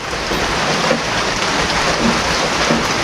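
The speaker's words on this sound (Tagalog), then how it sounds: "Ayan, umuulan na dito sa amin." Steady rain falls at a house where tiling work is underway, a dense, even hiss of drops on surfaces that stays constant and fairly loud throughout.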